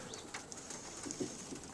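Young pigeons in a straw-bedded young bird loft coo faintly, with soft bursts of low cooing and a few brief higher calls over quiet background rustle.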